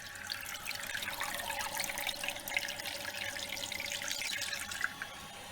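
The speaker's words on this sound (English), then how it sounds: "it's going to start filling up with water" A toilet cistern with dual push buttons fills with water, a steady hissing, rushing inflow without pause, close by and fairly loud.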